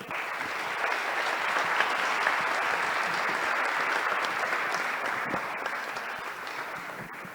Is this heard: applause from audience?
yes